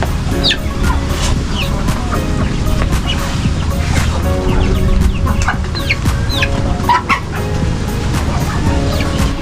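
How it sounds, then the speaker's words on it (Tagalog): Chickens cluck repeatedly in a busy coop, with scattered calls overlapping against a steady background of farmyard noise. "meron pong naglilimlim ditong manok"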